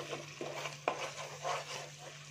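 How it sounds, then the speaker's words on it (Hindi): Garam masala being mixed into red rice in a pan, a few quiet scrapes and spoon taps over a faint sizzle and low steady hum. "अब इसमें 1/2 टीस्पून जितना गरम मसाला डालेंगे, डालकर मिक्स कर लेंगे।"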